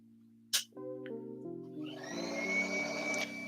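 A vacuum cleaner starts up after a click, its motor hum building and rising into a steady whirring drone with a hiss on top, moderately quiet and without speech.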